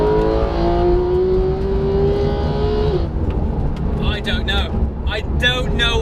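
A high-revving car engine climbs steadily in pitch, then cuts off around the midpoint, loud and close; voices and excited chatter follow over the idling engine noise.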